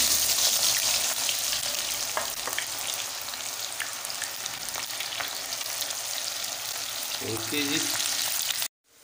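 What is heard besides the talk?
onions frying in hot oil in a pan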